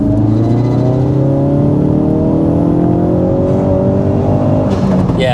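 A Ford Focus RS accelerates hard in third gear, its engine note climbing steadily in pitch, loud and close from inside the car, with a continuous strained roar and no talking.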